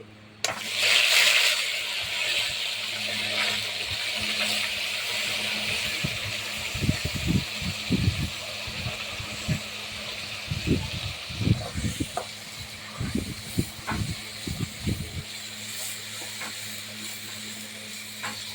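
Ground masala hits hot oil already holding cardamom, cinnamon, cloves, dried chilli and bay leaves on a large stove, and a loud steady hiss and sizzle follows, with stirring clatter while someone talks nearby.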